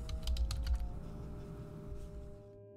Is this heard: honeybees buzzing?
no